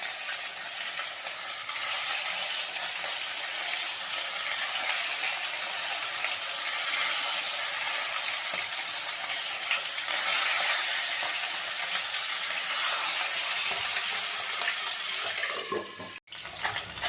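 Stingray fish pieces fry in hot oil, giving a loud, continuous hiss and sizzle that swells and settles slightly, with a few faint clinks near the end.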